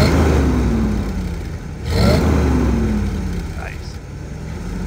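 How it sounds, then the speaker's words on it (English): A 1969 Chevrolet Corvette engine revs up near and loud, its rising pitch sweeping twice over a steady idle rumble, with a person speaking briefly. "Love the way this thing just starts right up."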